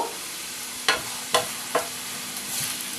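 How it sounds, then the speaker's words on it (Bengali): Potato pieces fry in oil in a pan, a low, steady sizzle punctuated by three distinct stirring knocks, with no voices. "আমার আলুটা দেখুন ভাজা হয়ে গেছে"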